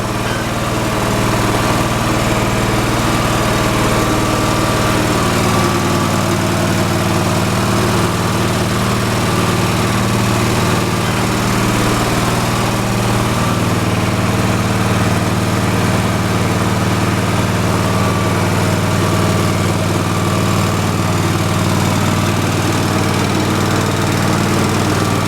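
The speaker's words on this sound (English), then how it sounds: "So it's running fast" A Briggs and Stratton P.E. 75 engine running fast, a loud, steady, close-up mechanical drone that holds constant without a break.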